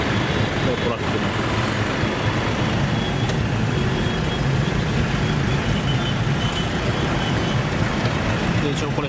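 Dense, continuous roar of trucks, buses and cars in busy street traffic in Cochin, India, steady and loud throughout, with engine rumble and occasional hiss of air brakes.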